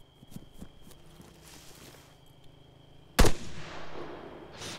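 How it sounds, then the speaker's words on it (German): Gunfire in Arma 3 Altis Life: soft distant shots and faint steps early on, then one sharp, loud shot burst near the end that rings out and fades. "Der schießt gerade auf jemanden."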